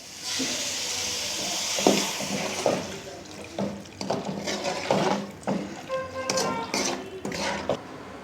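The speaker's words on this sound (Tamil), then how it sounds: "இப்போ 3 கப்பு அளவு தண்ணி ஊற்றிக்கிறேன் நான்." Three cups of water poured into a soup pot of drumstick-leaf soup, a splashing, hissing pour with clinks of the pot running for several seconds, close and fairly loud.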